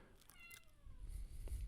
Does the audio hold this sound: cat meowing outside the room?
yes